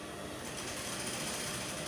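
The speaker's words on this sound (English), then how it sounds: "So I'm going to start sewing." A sewing machine stitches a crinoline, running as a steady, fast mechanical whir without pause for two seconds, faint and close, with no voices.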